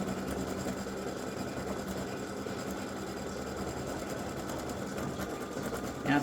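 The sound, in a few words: embroidery machine stitching free-standing lace pretzel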